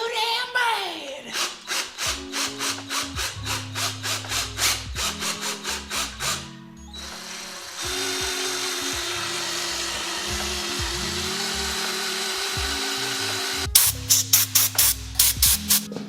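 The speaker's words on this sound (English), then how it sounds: "I'm tired of drilling holes." Power tool work on Honda CBR motorcycle parts: a rapid series of pulsing rasps, then a sustained loud grinding whir, then more quick bursts, all close and loud with music running underneath.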